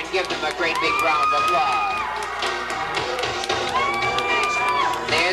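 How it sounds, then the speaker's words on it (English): A lively crowd cheers and whoops with clapping mixed in, excited shouts rising over a busy, noisy room. "give them a great big round of"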